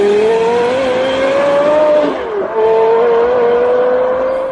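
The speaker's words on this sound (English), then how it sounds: "The exhaust note on a Carrera GT, unbelievable." Porsche Carrera GT engine with an aftermarket dual-tip sport exhaust, a loud, sustained high-pitched exhaust wail that holds steady, dips briefly around the midpoint, then climbs again close up.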